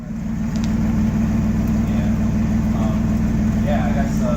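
A Firebird's freshly installed 3.8L V6 idles steadily and fairly loud, an even low rumble with a faint upper whine that holds without change, with light background noise.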